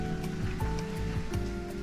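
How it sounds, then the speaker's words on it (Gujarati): Steady rain falls outdoors on a farm at night, a continuous close patter and hiss with faint background tones, heard alone without talk. "તો રાતનો 4 વાગ્યાનો વરસાદ ચાલુ છે"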